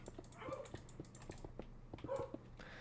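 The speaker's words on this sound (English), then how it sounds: "Gonna ignore the dogs." Minecraft dogs bark and whimper in the background, two short yipping bursts about a second and a half apart, mixed with faint clicking keys at low volume.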